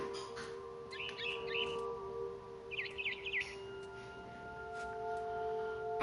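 Mother bird in the video game What Remains of Edith Finch chirps in two short bursts of bright tweets over a steady ambient game drone.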